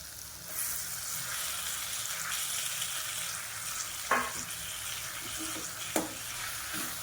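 Onion and tomato sautéing with drumstick leaves in a pan give a steady, close frying sizzle throughout, with two brief sharp clinks of a utensil against the pan partway through.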